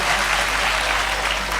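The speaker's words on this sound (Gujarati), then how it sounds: "તાળીઓ પાડો, તાળીઓ પાડો." Audience applauding at a Gujarati folk comedy and lok sahitya stage show, a dense, steady burst of clapping heard close and loud throughout.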